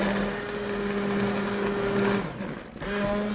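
Blender pureeing soup in a pot: a loud, steady motor whir that briefly sags and dips in pitch as the load shifts, then picks back up.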